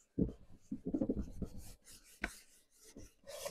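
A cleaning wipe is rubbed back and forth over a Scan'n Cut cutting mat, giving quiet, close scrubbing strokes in short irregular bursts.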